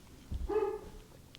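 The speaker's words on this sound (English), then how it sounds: "I'm sorry if you can hear my dogs barking." Dogs barking indoors, a single short muffled bark burst near the middle, fairly faint and set back from the microphone.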